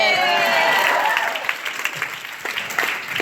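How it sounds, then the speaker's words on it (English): Comedy club audience claps and cheers at a stand-up set, a dense burst of applause that thins into scattered claps while laughter-like crowd noise and some voices carry underneath. "Let's clap for that one"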